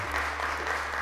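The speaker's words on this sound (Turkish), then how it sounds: "Yavuz Kağan'ı alkışlarla çağırıyoruz." A studio audience on a children's TV show applauds a child onto the stage, giving a brief burst of steady, dense clapping from a small crowd.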